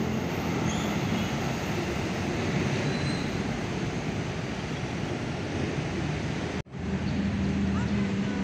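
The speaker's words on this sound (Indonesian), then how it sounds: "Kayak Argo Cirebon ini mah. Argo Cirebon." The Argo Cirebon passenger train rolls past close by in a steady, loud rushing roar with rail noise that holds throughout, broken by a brief dip near the end.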